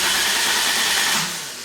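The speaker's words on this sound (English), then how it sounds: "And then now it just cranks, it doesn't start." A turbocharged Toyota MR2 Spyder with a 2ZZ-GE engine being cranked without firing: a loud, steady starter whir right up close that fades toward the end, and the engine never catches.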